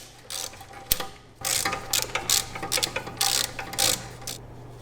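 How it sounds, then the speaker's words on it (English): A hand ratchet clicks rapidly while loosening a 10 mm bolt on the wheel speed sensor bracket of a Grand Caravan during an axle replacement, close and loud, in several uneven bursts with short pauses and no talk. "we've got a little bolt to remove here. And it's a size 10"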